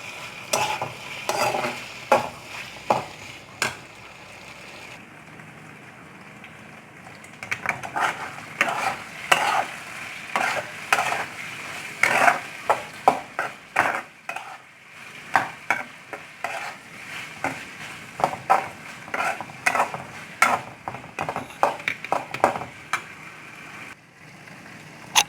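Elephant yam pieces stir-fry until crispy, with repeated scraping and clanking of a spatula against the pan over a soft background sizzle, the stirring strokes coming in irregular close bursts.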